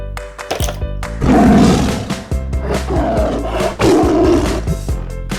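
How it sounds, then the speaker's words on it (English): A tiger gives loud, close, repeated roars and growls in several heavy bursts. "Tiger."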